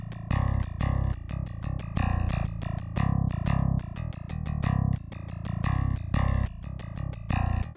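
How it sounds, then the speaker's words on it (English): Bass guitar played through the Moto Bass 2 plugin with no amp or effects, a dry DI tone: a fast, chugging metal-style riff of dense, heavy, evenly loud low notes, continuous and close, no talking. "if we turn off everything except the Moto Bass 2 plugin, we'll get the DI sound"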